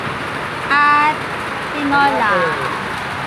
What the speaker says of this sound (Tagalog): Ayan, umuulan po.